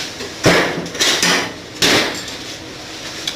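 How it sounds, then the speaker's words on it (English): A small metal hammer drives wooden wedges into place in a woodworking shop, giving about four sharp, ringing strikes at an uneven pace, close and loud, with no talk. "what I find works best is a small metal hammer"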